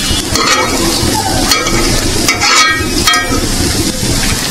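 Rohu fish frying in hot oil, a loud, dense, continuous sizzle heard up close, with occasional stirring scrapes and crackles rising over the steady hiss.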